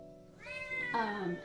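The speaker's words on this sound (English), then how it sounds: "That is my cat meowing" A pet cat gives one loud, drawn-out meow indoors, rising and wavering over about a second, heard close and alone.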